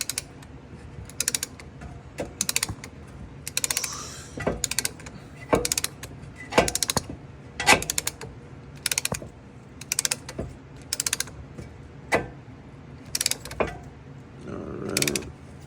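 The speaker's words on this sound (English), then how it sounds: "See, it screws out as you go along and ratchet it." A ratchet winds a brake caliper tool during a brake rotor and pad job on a Lexus IS250, giving repeated bursts of sharp clicking and creaking with short pauses between strokes, close by and fairly loud.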